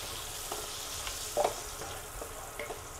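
Danggit fish frying in margarine, a steady close sizzle and crackle with a few brief spatter pops, no talking.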